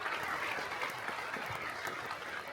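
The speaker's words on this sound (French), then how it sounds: "on peut les applaudir encore une fois" An audience applauds at a mayor's New Year address, a continuous soft wash of clapping heard from a distance with no single claps standing out.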